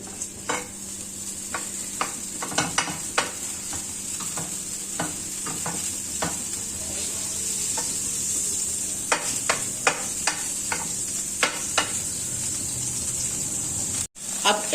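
A tablespoon of butter sizzling and melting in a hot pan for a chicken steak sauce, a steady bright frying hiss throughout, punctuated by scraping stirs and taps of a utensil, close and moderately loud.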